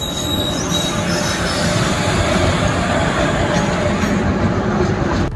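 Train running as heard from inside a passenger carriage: a loud, continuous rumble of wheels on track with a sustained high metallic squeal of the wheels over it, close and unbroken.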